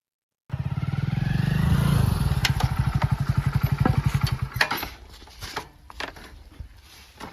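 A Hero motorcycle engine starts up close by, a loud rapid chugging idle that settles and fades into uneven putters with a few clunks.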